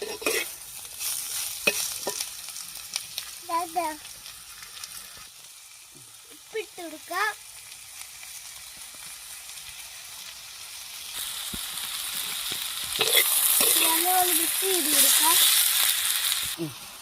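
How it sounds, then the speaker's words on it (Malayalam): Green chilies and onion fry in a pan with a soft sizzle, broken by scraping stirs and clinks, the frying growing louder and brighter toward the end while a voice speaks intermittently. "പച്ചമുളകും സബോളയും കൂടി ഇടാം. ചെറിയ രീതിയിലൊന്ന് വാടി വരട്ടെ."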